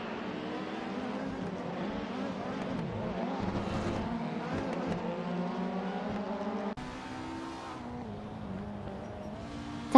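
Racing cars whine through the BTCC Speedway in a racing simulator game, several engines layered at high revs with shifting pitch and brief tire squeals, then an abrupt cut and a quieter engine drone.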